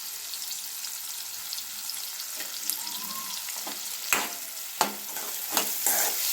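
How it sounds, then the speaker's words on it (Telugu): Chopped onions and green chillies fry in a pan for a dried-fish gongura curry, giving a steady close sizzle with a few sharper scrape-and-clank stirring hits toward the end. "నెక్స్ట్ ఉల్లిపాయ, పచ్చిమిరపకాయ ముక్కలు వేయించుకుందాం."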